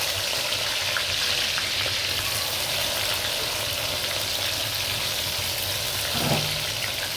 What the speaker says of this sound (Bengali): পেঁয়াজটি আমি ভেজে নিই।